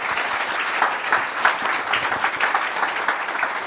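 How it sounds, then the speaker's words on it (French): Steady audience applause fills a closing-night gala of an international week in Nantes, dense clapping from a crowd that holds level throughout with no speech over it. "Avec vos applaudissements, bien sûr."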